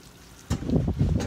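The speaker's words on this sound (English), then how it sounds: "I have this little watering can. And you just want to make sure that you soak the soil" Water from a small watering can pours onto fresh potting mix in a herb pot, a soft gurgling, splashing rush that starts abruptly and keeps going, close by with no talk.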